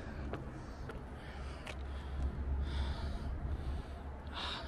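A hiker breathes heavily while climbing Turtle Rock Mountain in Tabuk, Saudi Arabia, a steady run of close, rough breaths and snorts over constant wind noise outdoors.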